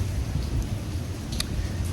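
Steady rain pours down outdoors during Hurricane Milton, a dense continuous wash with low rumbling, loud and close, with no one speaking.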